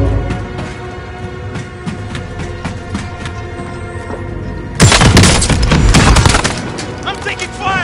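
Video game gunfire rattles in sustained automatic bursts, growing into a loud, dense volley partway through, with in-game voices faintly underneath.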